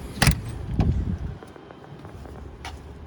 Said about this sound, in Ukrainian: Механічні склопідйомачі, доглянутий салончик ціленький